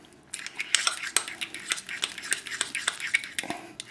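A fork scrapes and taps around a round bowl, working mayonnaise into deviled egg filling, giving a steady run of close, clinking scrapes in an uneven rhythm.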